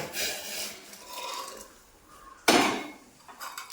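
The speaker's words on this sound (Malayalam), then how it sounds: "നമുക്ക് കുറച്ച് തിളച്ച വെള്ളം ഒഴിച്ചു കൊടുക്കാം" Boiling water is poured into a pot of chickpea curry, a soft hiss and clatter near the pot that swells into a sudden loud splashing gush midway, then tapers off.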